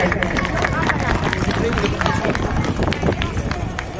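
At an outdoor legal aid camp in Chamoli district, a large crowd claps loudly and continuously, a thick roaring patter of hands with murmuring voices mixed in.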